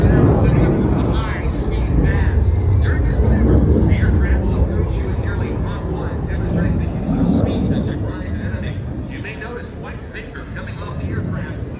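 Phillips 66 aerobatic airplane at the Oshkosh air show, a broad, steady engine drone with rushing low rumble that swells and fades slightly, heard amid crowd noise and an announcer's voice.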